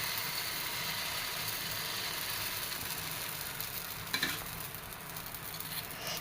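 Dosa batter poured onto a hot pan gives a steady, even sizzle throughout, with a brief clatter of utensils near the end.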